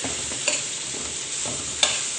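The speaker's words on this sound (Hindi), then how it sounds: "अब इसमें हम सबसे पहले गाजर डालेंगे, ठीक है। इसको थोड़ा सा फ्राई करेंगे" Carrots frying with browned garlic for spring rolls, a loud, even close sizzle with two quick stirring clacks.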